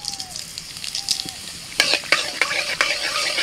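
Cumin seeds, a dried red chilli and a torn bay leaf crackle in hot mustard oil in a wok, a steady sizzle broken by several sharp metallic scrapes of a spatula stirring, with no talking.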